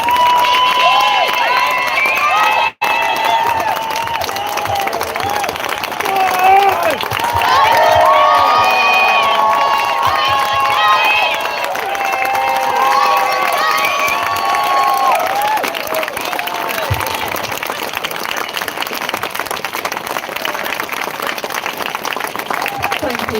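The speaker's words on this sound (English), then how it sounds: "Let's give a massive round of applause to all of you and to all of our speakers." A rally crowd, gathered over hunting, claps and cheers loudly and steadily for more than twenty seconds, with whoops and shouts rising through the sustained applause.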